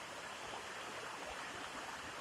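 A waterfall pours steadily on a mountain-bike outing, a broad continuous rushing wash of water filling the scene without break.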